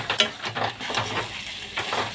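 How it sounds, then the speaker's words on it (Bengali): Boiled, broken-up potatoes frying with spices in a pan, a soft continuous sizzle broken by the scrape and clink of a spoon stirring, close by, with no talk over it. "তো আলু দিয়ে আমি আরও কিছুক্ষণ এটাকে কষাতে থাকবো।"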